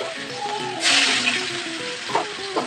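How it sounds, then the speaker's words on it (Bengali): Chopped onion frying in oil with five-spice in a pan, with a steady close sizzle that swells into a louder hiss briefly, plus a couple of soft stirring knocks near the end. "পেঁয়াজটাকে ভালো করে একটু ভেজে নেব।"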